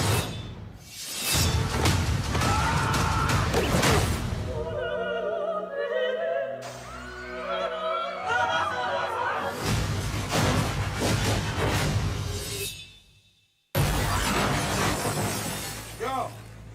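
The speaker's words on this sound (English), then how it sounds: "You smashed the car through a restaurant!" A car smashing through a restaurant, with bursts of shattering glass and crashing debris, then a sudden cut to a quieter passage and another burst of loud impact noise.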